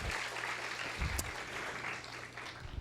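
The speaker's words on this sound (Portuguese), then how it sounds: "Você pode aplaudir ao Senhor" A crowd at a church service claps steadily, a soft, even wash of applause heard from a distance that carries on throughout.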